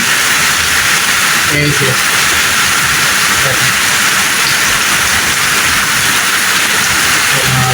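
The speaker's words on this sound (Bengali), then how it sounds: "শুনতে থাকুন সেই বৃষ্টির ঝুম শব্দ, টিনের মধ্যে যে ঝুম শব্দগুলি হয়।" Heavy rain drums on a tin roof as a dense, steady roar of hiss that stays loud and unbroken throughout, with a brief spoken phrase near the start.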